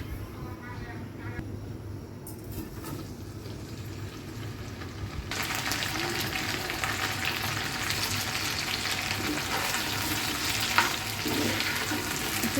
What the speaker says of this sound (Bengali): এখন এই কড়াইতেই হচ্ছে ভেন্ডি ভাজাটা করে ফেলবো ঝটপট